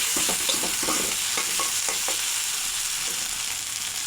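Spice paste of turmeric, coriander, chilli powder and salt fries in oil for a tengra fish curry, crackling in a dense steady sizzle while a spatula scrapes and stirs in quick repeated strokes close by.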